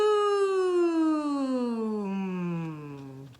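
A voice imitates a lawnmower's steady zooming drone, one sustained tone sliding gradually downward in pitch for about three seconds, close and fairly loud.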